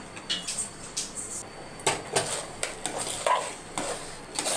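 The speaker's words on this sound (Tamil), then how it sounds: "இப்போ சர்க்கரை பொங்கலை மிக்ஸ் பண்ணிவிட்டு பாருங்கள்" Sweet sugar pongal being stirred in a pot, with a ladle scraping and knocking against the metal in an uneven rhythm, close and moderately loud.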